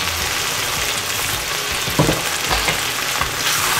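Beef and onions fry loudly in a pan for gorur mangsho bhuna, giving a dense, continuous sizzle, with a few stirring scrapes around the middle, close up and with no talking.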